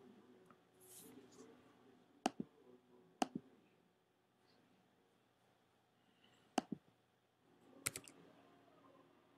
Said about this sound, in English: go to Firefox and type in the website to make sure everything's loaded properly